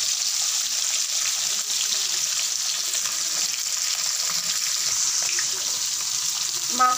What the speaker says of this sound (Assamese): এয়া ভাজি আছোঁ মাছখিনি